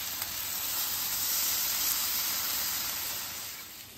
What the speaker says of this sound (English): I got my stuff cooking on the griddle